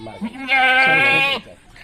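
A goat at a livestock market gives one loud, close bleat lasting nearly a second, preceded and followed by brief quieter animal or crowd sounds.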